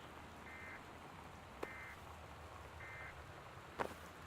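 Steady, faint rain pours through a stormy night in the exploration game Gone Home, with a few short repeating electronic tones and two sharp clicks over the even hiss.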